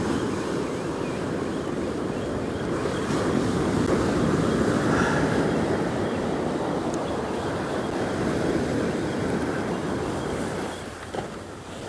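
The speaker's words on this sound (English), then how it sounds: "here comes that shore swell" Shore swell rolls in and breaks on an Australian surf beach during fishing, a steady broad wash of surf and wind noise running throughout at constant loudness, with no voices.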